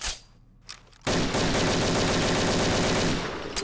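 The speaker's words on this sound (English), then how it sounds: "the first thing you're seeing right now is the M16A4, a new GP assault rifle, GP rare assault rifle, and the sound is absolutely amazing." Sustained rapid automatic fire from an M16A4 assault rifle in the video game Combat Arms, a loud continuous burst that follows a couple of quieter sounds and runs to the end.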